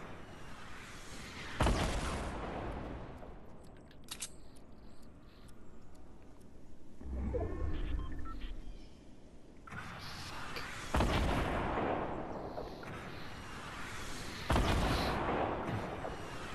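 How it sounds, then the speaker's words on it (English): Rockets fired and exploding in Fortnite, several distant booming blasts spread across a quiet stretch, each a sudden broadband burst that fades, with a softer whooshing rise in between. "I think he's just shooting rockets like tomorrow"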